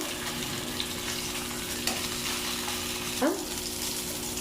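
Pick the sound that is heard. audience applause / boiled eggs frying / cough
boiled eggs frying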